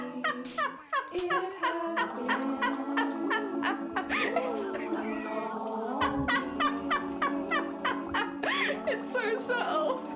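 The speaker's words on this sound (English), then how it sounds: "Could you hear the kookaburra noises?" Kookaburras cackle in the background outdoors, a steady run of rapid, repeated rising calls that overlap throughout, with a voice present at times.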